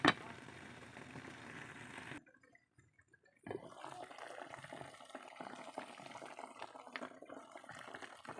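Food seasoned with Magic Sarap boils in an electric pot, a steady close bubbling and sizzling hiss that cuts out for about a second before resuming, with no talk.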